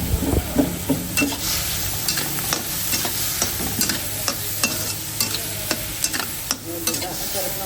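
Moringa pods being sautéed with canned tuna in a pan, a steady close sizzle with frequent scraping stirs of a utensil against the pan, no talking.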